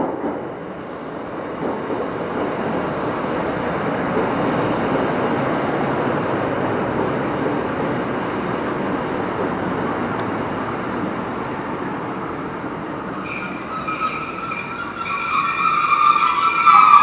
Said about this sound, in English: Train now departing is a 156 and 150 to Manchester Oxford Road.